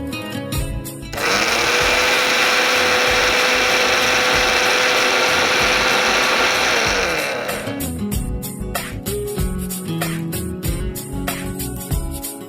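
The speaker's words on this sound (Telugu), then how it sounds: "మిక్సీ పట్టేసుకుందాం." A mixer grinder roars steadily for several seconds while grinding urad dal and curry leaves into powder, then cuts off into clattering and knocking of the jar, loud and close.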